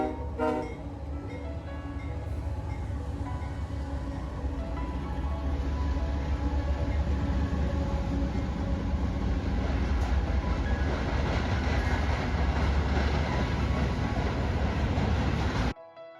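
Train rolling past on a railroad line, a loud, steady rumble and clatter of wagons sustained nearly the whole time, then cutting off abruptly at the end.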